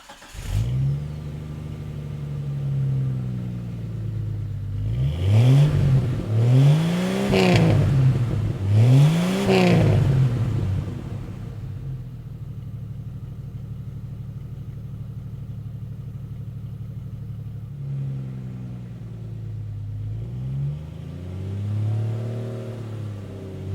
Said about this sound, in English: I'm gonna go ahead and start this thing up for you guys so you can hear that new muffler